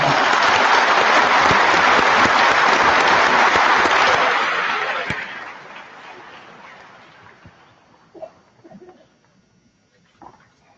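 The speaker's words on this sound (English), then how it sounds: "How about a round of applause for our superintendent?" Loud applause from a school district celebration crowd honoring the superintendent, dense clapping for about five seconds that fades into scattered claps and quiet room noise.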